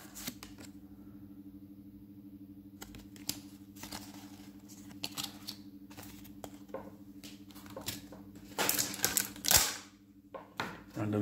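Free promo blister packs of Pokémon Vivid Voltage cards being torn and opened by hand, a run of close, crinkly plastic rustles and snaps that grow busier and louder toward the end, with a faint steady hum beneath.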